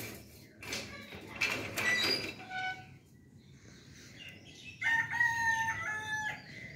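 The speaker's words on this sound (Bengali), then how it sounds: "ওই যে আমাদের মোরগ ডাকতেছে।" A household rooster crows twice in the morning, the calls fairly close and loud, separated by a short lull with light clucking and background rustle.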